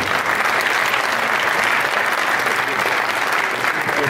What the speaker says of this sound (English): Give everybody a round of applause.